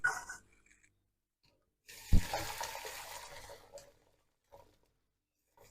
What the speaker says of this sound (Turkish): Evet şimdi süzmeye başlayalım.